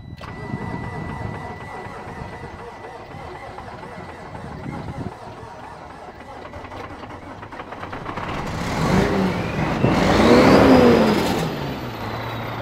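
A cheap semi truck's engine cranks on its way home after breaking down, a rhythmic starter churn that grows louder and rises toward the end, with people nearby.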